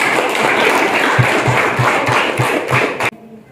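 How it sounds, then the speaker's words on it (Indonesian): Classroom applause for a student named Keren during a school lesson, a loud dense patter of clapping hands with rhythmic group claps on a steady beat, cutting off sharply near the end. "Tepuk tangan dulu untuk Keren."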